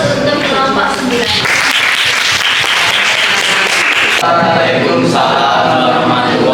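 Classroom applause for a student group during an open chemistry class, steady dense clapping from many hands filling the room for several seconds, loud and close with a slight shift partway through.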